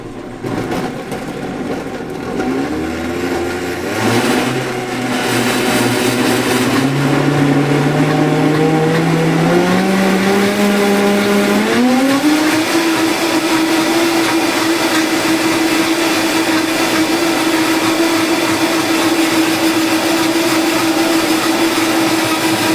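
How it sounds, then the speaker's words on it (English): A Vitamix Pro 500 blender making a smoothie starts low and ramps up in steps to a high, steady whine, then roars continuously at full speed. "I'll slowly ramp it up to like 10, let it blend, let it do its stuff"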